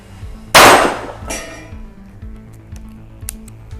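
A Taurus .22 revolver fires at paper targets: one sharp, loud crack with a short ringing decay, followed a moment later by a weaker second report, then quiet with faint clicks.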